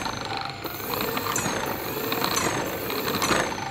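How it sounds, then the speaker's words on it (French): Small homemade electric motor on a mini electric bike spinning its wheel at full throttle, a steady buzzing whir with rattly mechanical texture and a few rising whines, close and continuous. "regardez la roue quand j'accélère à fond"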